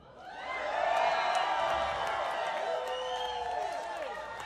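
A live audience cheers and whoops in a swelling roar that peaks early and then slowly tapers, with scattered shouts and whistles rising above the crowd noise.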